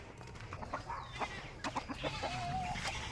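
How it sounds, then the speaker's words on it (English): A lone rooster on a farm gives scattered, soft clucks amid faint outdoor rustling, the short calls spaced irregularly and fairly distant. "Now here comes a lone rooster running back."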